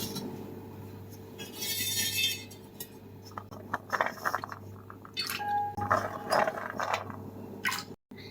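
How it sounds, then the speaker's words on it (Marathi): Water sloshing and splashing in a bowl as chopped vegetables, including carrot pieces, are stirred and rinsed, with light clinks and drips, close by and without talk. "आता ह्या सर्व भाज्या मी या पाण्यामध्ये टाकून धुवून घेत आहे"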